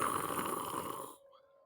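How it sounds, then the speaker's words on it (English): Breathing in a role-played game scene, a steady rasping, snore-like rush that holds for about a second, then cuts off abruptly into near silence. "You hear the breathing"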